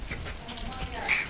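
A dog gives short, faint yips and whimpers in the background while people talk nearby.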